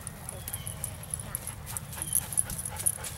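An outdoor game of fetch with a stick or ball, with a female dog giving soft, intermittent whimpers and whines over quiet background noise.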